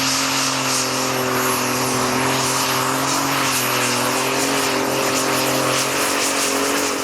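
A pulling tractor at the 2008 Danish Championship tractor pull in Herning roars through a full pull, a loud continuous engine howl with a steady, slightly wavering pitch throughout.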